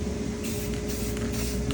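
Steady hiss of a spray can misting a giant handmade paper rose, continuous and close throughout the short stretch with no voices.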